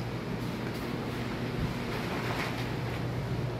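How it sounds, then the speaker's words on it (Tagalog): Strong typhoon wind roars steadily against the microphone in San Juan, Metro Manila, a constant rushing noise with occasional gusts and no voices. "Ganun pa rin, malakas pa rin ang hangin."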